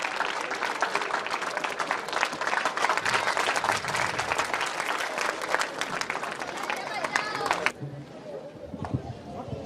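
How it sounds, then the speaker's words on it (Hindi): An audience at a school alumni meet claps loudly and continuously in dense applause, which drops off abruptly near the end, leaving scattered claps and faint background voices. "आप सभी जोरदार ताली से उनका स्वागत करें।"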